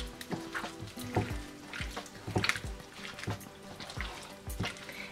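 Chunks of mutton are being stirred into a thick yogurt, turmeric and Kashmiri chili marinade. Soft, wet squelches and sticky slaps come in a steady, uneven rhythm, close up and fairly quiet.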